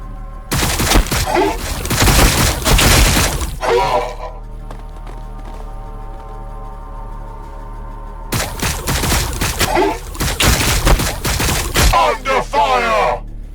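Gunfire from a Warhammer 40,000: Battlesector battle, in two dense, loud bursts of rapid crackling fusillade separated by a quieter stretch of low droning tones and ambient hum.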